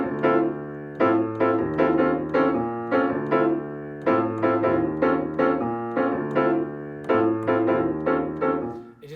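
Jazz piano comping in an Afro-Cuban style with a Brazilian-leaning rhythm: repeated syncopated chord stabs with a steady bass pulse, close and loud, continuous with no talking.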